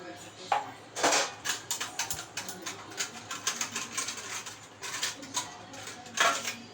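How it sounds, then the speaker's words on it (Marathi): Dishes, pots and steel utensils clatter and clink in a home kitchen sink as they are scrubbed, a busy run of sharp metallic knocks and scrapes at close range, with no one speaking. "आणि एकीकडे भांडी घासून घेते."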